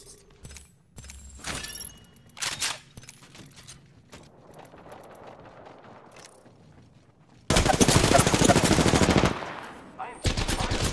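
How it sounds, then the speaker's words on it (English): Automatic gunfire in a battle royale video game, with short bursts early on, then a long dense burst of rapid shots and a final burst. Game sound effects fill the gaps between them. "I am taking fire. I am taking fire."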